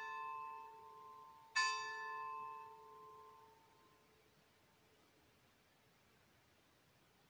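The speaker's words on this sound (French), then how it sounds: "Les cloches m'ont perturbée." A church bell rings faintly with a long, fading tone, then a second stronger strike that hums away into quiet background hiss.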